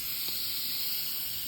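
Steady broadband hiss of steam venting from an Instant Pot pressure release while collard and turnip greens cook with smoked turkey wings, continuous and fairly even for the whole stretch, close and alone with no talk.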